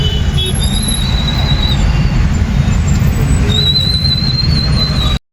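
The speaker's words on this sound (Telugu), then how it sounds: "Full traffic." Congested Hyderabad road traffic by a flyover on the Kondapur side, a loud continuous engine drone with thin, high whistling squeals drifting in and out before it cuts off abruptly.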